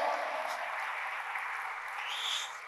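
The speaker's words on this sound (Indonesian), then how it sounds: "Mari tepuk tangan buat Tuhan." A church congregation at an Indonesian-language sermon claps for God: a soft, even, fairly distant wash of clapping from many hands, held steady without sharp individual claps.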